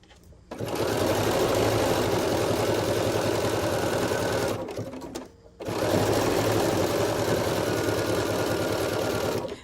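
A BERNINA sewing machine stitches fabric in a fast, even whir. It runs for about four seconds, pauses briefly, then resumes at the same steady speed. It is close and clear, with no talk over it.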